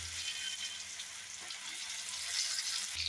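Pointed gourd and potatoes fry in hot oil with panch phoron, giving a steady close sizzle and crackle throughout with no voices.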